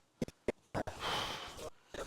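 A hiker climbing uphill through the hills pants heavily and close, with quick bursts of breath and a longer rasping exhale.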